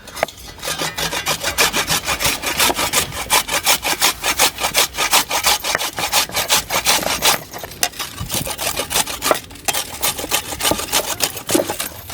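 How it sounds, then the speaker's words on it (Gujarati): Garam masala spices being ground by hand with a stone in a village kitchen, a rapid, rhythmic rasping scrape repeating steadily without pause, close and fairly loud. "ગરમ મસાલા પથ્થરથી મસ્ત એવા વાટી નાખશું"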